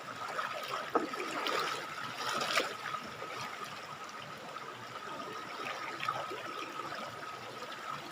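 Overflowing river water flows along a bamboo-lined bank in the province, a soft, steady rushing trickle heard alone at a low level.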